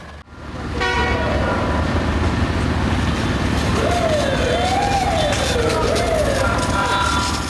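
A loud ambulance and fire engine siren wails continuously nearby at a car fire, its pitch sweeping up and down over a steady roar of engine and street noise.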